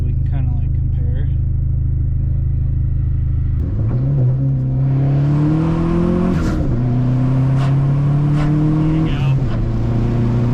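A Dodge SRT4 accelerates hard on the road, its engine note climbing steadily before dropping at each gear shift, repeated several times, loud and close from inside the car, with voices talking under the engine.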